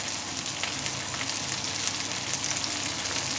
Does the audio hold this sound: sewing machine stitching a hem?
no